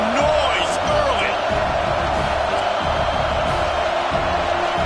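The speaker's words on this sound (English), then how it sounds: "This crowd bringing the energy and noise early." A steady roar of stadium crowd noise in a football video game, a dense continuous wash with faint whoops rising through it.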